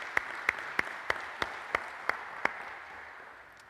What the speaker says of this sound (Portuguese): Que tal agradecermos esses irmãos voluntários com uma salva de palmas?